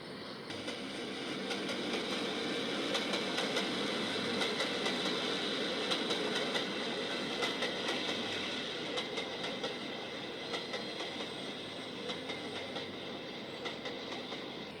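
A train rolls steadily along the AWVR railroad in West Virginia near Pinewood Summit, wheels clicking and rumbling at a constant moderate distance, with no voices throughout.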